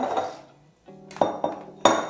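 A knife chops peeled coconut flesh, with the dark skin removed, into small pieces for homemade coconut oil: three or four sharp, close knocks against the board with short gaps between them.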